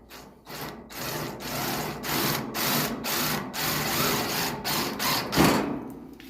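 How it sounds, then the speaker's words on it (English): A power drill drilling a hole in a 1965 Ford Mustang gives a steady grinding, whirring noise for several seconds in pulsing bursts, close up, with no talking. "And we're going to drill us a hole."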